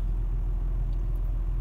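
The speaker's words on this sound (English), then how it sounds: "See all these cars going by?" Cars drive by on a street in a steady, loud low rumble of road traffic, with engines droning continuously and no voices.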